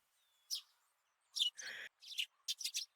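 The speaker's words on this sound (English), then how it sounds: "The chirping of birds serves as my alarm clock." Birds chirping as a morning alarm in the Higurashi video game, several short bright tweets and trills in separate bursts against near silence, fairly close and clear.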